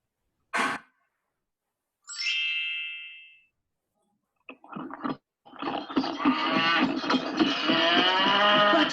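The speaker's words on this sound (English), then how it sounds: "There's a cow. And a cute little calf." A cow moos on a farm: a short sharp call, then a drawn-out tonal moo, followed by a louder, longer lowing call that builds and holds to the end, with no one talking.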